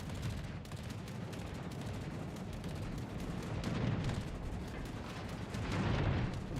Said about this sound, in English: I think I'm being bombed.